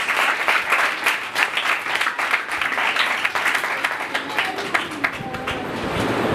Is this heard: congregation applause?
yes